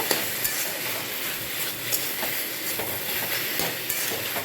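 Spinach greens frying dry in a pan with fried chilli, a dense, close hiss of sizzling with faint stirring clatter, steady throughout and without voices.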